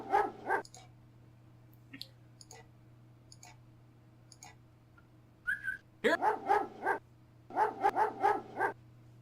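A dog barks in the King's Quest V computer game, with a few sparse chirps early on and then two quick clusters of sharp, repeated barks near the end, with no voices.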